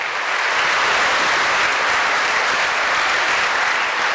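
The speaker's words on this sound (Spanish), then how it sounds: "Démosle un caluroso y fuerte aplauso a esta hermana de bienvenida" Loud, warm applause fills a Catholic church gathering in Belize to welcome a woman, a dense, continuous roar of many clapping hands that stays strong and even from start to finish.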